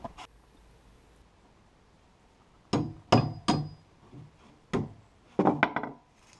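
A hammer drives nails into fir boards for a sawmill shed, a few sharp wooden knocks heard singly, then a quick cluster of blows near the end, close and clear over a quiet background.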